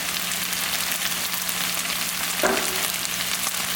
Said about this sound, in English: I'm just going to let them cook on a high light and turn them